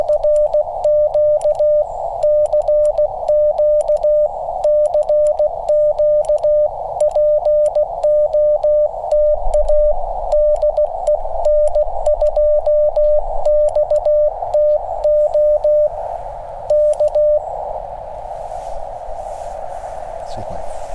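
Morse code CQ call keyed on ham radio during a 5°F outdoor activation, heard as a steady sidetone of rapid dits and dahs in a continuous rhythm, clear and fairly loud, giving way to a steadier tone near the end.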